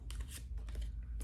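Tarot cards drawn and slid from a deck: a brief, soft series of close papery swishes and light card flicks, quiet and with no voice.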